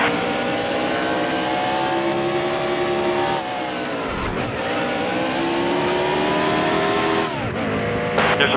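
A pack of NASCAR stock cars in a racing game holds a steady, loud, layered engine drone as they accelerate from the green flag, with brief dips and roaring pass-bys but no talk.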